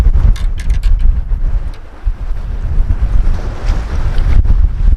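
Strong wind buffets the microphone aboard a fishing boat off Eyemouth on a cold, blustery day, a loud continuous low roar with gusty thumps and water sloshing beneath it.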